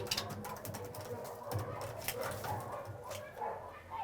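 A raven gives short, barking calls that imitate a dog, quiet and somewhat distant against a noisy background.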